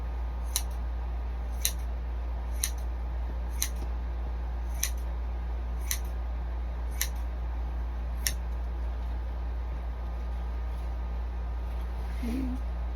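Scissors cut through fabric in crisp, evenly spaced snips, about eight in a row roughly a second apart, quiet and close against a low background hum.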